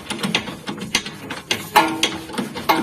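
A bolt on a Honda CR-V front shock absorber is broken loose with a ratchet, giving close, loud, rapid clicking pawl bursts in an uneven rhythm, with no talking.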